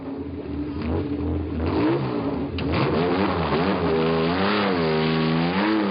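A car engine revs hard and accelerates, rising in pitch through several climbing sweeps, loud and close, with no talk over it.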